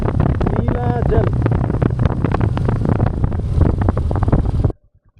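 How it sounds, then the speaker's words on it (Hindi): A strong headwind roars across an open road in Ladakh, blasting the microphone in a constant, loud rumble under a speaking voice before cutting off abruptly near the end. "सामने से हवा बहुत तेज है"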